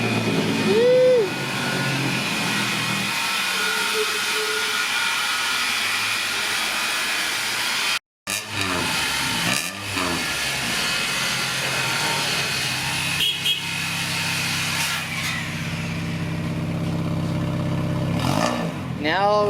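A 1994 car with a newly fitted exhaust starts and runs, the engine revving and surging in rising and falling sweeps around a short silent break, with people talking over it.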